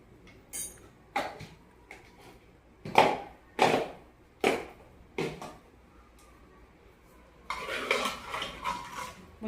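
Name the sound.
stirring spice mixture in pot for sambhar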